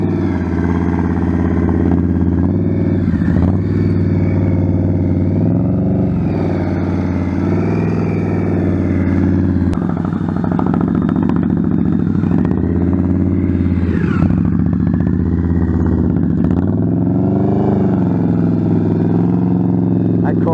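Motorcycle ridden through a tight turn of about 19 feet during a rider training session, its engine running steadily near and loud with throttle rises and falls as the clutch is worked, while a person talks over it.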